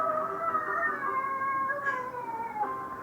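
A cat being given a bath lets out a long, drawn-out wailing meow that wavers in pitch, fairly faint over a steady background hiss.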